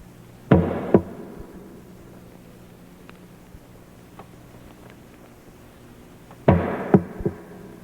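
Heavy knocks ring out during a live song performance as a hammer strikes a nail into wood: a close, loud cluster of blows near the start, a long quiet gap, then a second cluster of two or three hits at the end.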